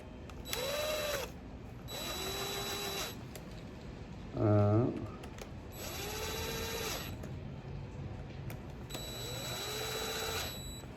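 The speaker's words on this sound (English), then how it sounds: "I'm gonna use my impact driver." A cordless impact driver runs in four short whirring bursts, spinning screws on a Honda CBR600F2 carburetor, each about a second long with pauses between, plus a brief lower mechanical rattle midway; close and moderately loud, no talk.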